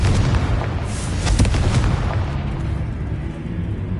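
Confringo fire spell explosions in the Hogwarts Legacy video game, a sustained rumbling blast with booming bursts that peak near the middle and then fade into a lingering low roar.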